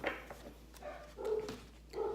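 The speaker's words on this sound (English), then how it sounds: "Sorry for the dogs barking." Several dogs barking outdoors, a few distant, muffled yips and barks at an uneven pace, with a louder burst near the end, all fairly faint.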